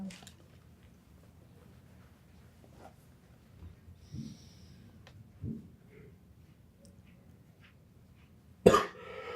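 One loud, sharp cough bursts out close to the microphone near the end, following a few faint throat noises against a quiet room.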